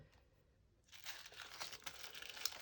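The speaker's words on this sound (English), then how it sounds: "I made this page longer with some tissue paper, and I like the noise that it makes" Tissue paper crinkling as a page of a handmade Christmas advent journal is turned, a close, dry rustle that starts partway in and continues steadily after a quiet opening.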